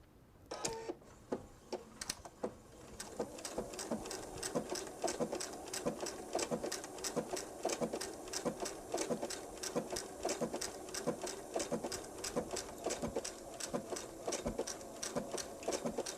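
A sewing machine stitches a bench pillow in a rapid, regular train of mechanical clicks and whirring at close range, steady and rhythmic after a few hesitant starts, with no talking.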